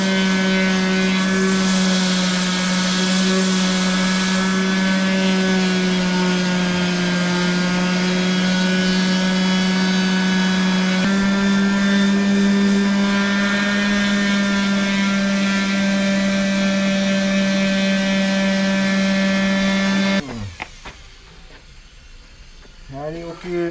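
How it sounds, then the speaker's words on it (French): A power sander works steadily on a boat during its hull refit, a loud continuous droning hum with a strong tonal whine that holds for about twenty seconds and then cuts off, leaving quiet handling noises. "après on passe au ponçage de l'hélice et l'arbre d'hélice"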